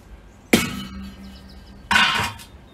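New stainless steel char baskets set down on the side of a grill, producing two sharp metallic clanks about a second and a half apart, with quiet handling in between.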